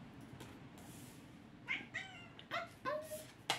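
A house cat meows several times in a row indoors, short rising and falling calls spaced about half a second apart, fairly close but quiet against a soft room background.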